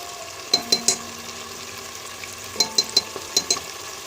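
Spices and turmeric frying in a pan, a steady low sizzle broken by two brief bursts of metallic spoon taps and scrapes against the pan, close and clear, with no talking.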